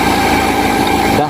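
A van engine, towed in for lacking power and with a badly neglected air filter, runs loud and close at a steady idle just after its tappets are adjusted, with a constant buzzing drone that cuts off abruptly at the end.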